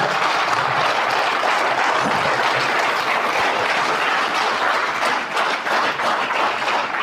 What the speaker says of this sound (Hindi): एक बार आरसीएम के लिए अंदर वाली ताली आनी चाहिए, अंदर वाली।